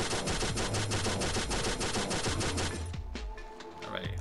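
Rapid bursts of automatic gunfire from a Pixel Gun 3D mobile shooter game, dense evenly spaced shots for about three seconds, then a brief pause and a few scattered clicks and lighter sounds.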